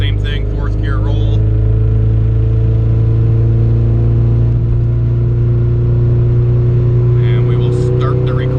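A tuned Honda Civic with boost control pulls hard in fourth gear, a loud steady engine drone with slowly rising pitch throughout, heard close from inside the car with brief voice murmurs at the start and end.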